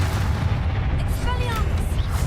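The Confringo spell in Hogwarts Legacy goes off as a heavy, booming blast amid steady game noise, with a brief rising tonal shimmer after it and a voice speaking during the clip.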